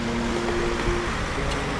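Steady stream of water poured into a terracotta olla pot buried in a garden growing bed, a continuous close gurgling rush with a faint hollow ringing tone, no voices.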